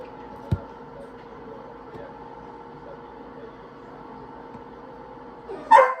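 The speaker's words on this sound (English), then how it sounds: "The dogs are going crazy." Dogs barking in a home, a sharp yelp near the start and a louder burst of barking at the end, over a steady background hum.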